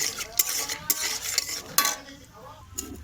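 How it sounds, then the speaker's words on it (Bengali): Peanuts rattle and scrape in a dry pan as a utensil stirs them while they roast, with sharp metallic clinks, then the stirring quiets. "তো আমি বাদাম ভাজবো লাল করে। এটা হলো চিনে বাদাম।"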